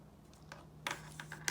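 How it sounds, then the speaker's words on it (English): A few quiet clicks of calculator keypad buttons being pressed, close but faint, in a short irregular sequence over a low steady hum. "it's just a matter of typing it into the calculator"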